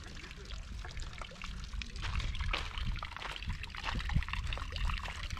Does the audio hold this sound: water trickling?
yes